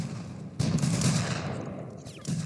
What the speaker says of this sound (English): Fire and shoot.